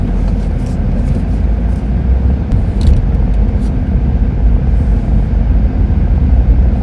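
A car pulls slowly out of a residential community parking area at evening, its engine a steady low rumble with tire and road noise holding at a constant moderate level throughout, no voices.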